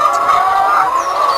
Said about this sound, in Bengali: ওই দেখেন, এখন আমি আমার লেয়ার খামারে আছি। মুরগিগুলি এখন ডিম পাড়তেছে।